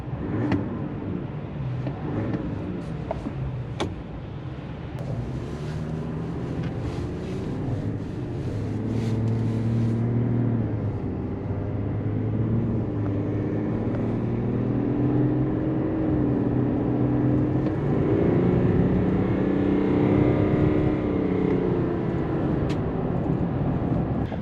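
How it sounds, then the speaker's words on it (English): Engine of a 2022 Chevrolet Silverado 1500 LTZ with the Duramax inline-6 diesel, heard from inside while driving: a steady low drone that swells slightly after several seconds and holds, with no talking. "when you're driving this thing around town, it does give you a little bit of that diesel sound and feel."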